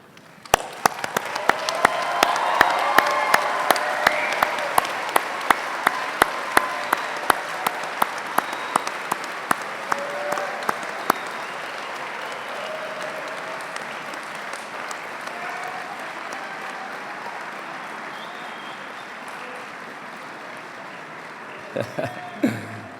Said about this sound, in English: join me in a huge round of applause to thank them for all of their support